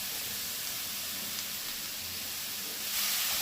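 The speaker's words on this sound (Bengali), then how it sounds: "গাজরটা একটু ভালো করে ভেজে নেব" Grated carrot fries in ghee in a pan, giving off a steady, close, bright sizzle and hiss that swells slightly near the end, with no talking.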